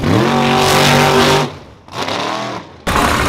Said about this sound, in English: So this car right here about to go past.